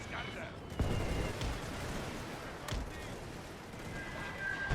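Gunfire in the World War I battle game The Great War 6.0, scattered shots and a few sharp cracks over a steady battlefield din, with voices talking throughout.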